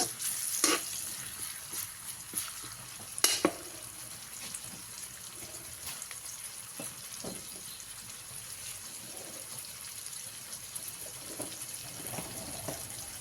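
Garlic and onions fry gently in hot oil, giving a low, steady sizzle nearby, punctuated by a few louder clinks and scrapes of stirring early on.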